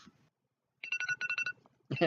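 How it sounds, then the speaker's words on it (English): An alarm chiming on an iPad, a quick run of bright electronic tones around a second long, heard faintly at a distance between bursts of talk. "that's my alarm on my iPad"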